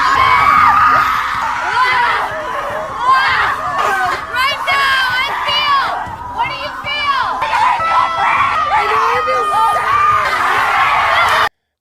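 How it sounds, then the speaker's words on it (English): A group of about eight women scream together out in the woods, a dense, sustained wall of overlapping shrieks and yells that stays loud and close throughout. "you go out in the woods and you scream, you do a group scream with like 8 other women"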